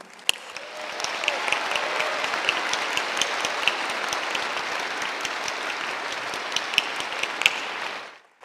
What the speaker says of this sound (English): Please join me in another round of applause for this very impressive group.